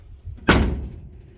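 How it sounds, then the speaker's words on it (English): A muscle car door on a racecar project slams shut once, a single loud, solid thud with a short ringing decay, alone. "That's what a muscle car door sounds like."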